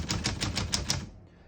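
Keys strike on a 1940 Corona Standard portable typewriter: six crisp, evenly spaced clacks in quick rhythm, close up, then a brief quiet tail.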